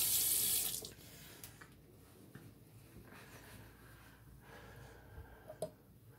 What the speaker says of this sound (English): Rinse the hands, dry them off, so we don't drop this high-end razor